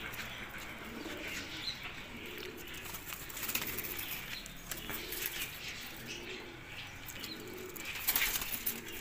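Pigeons in a loft give soft, repeated cooing calls at a steady rhythm, fairly faint over a busy background with occasional wing flaps and chirps.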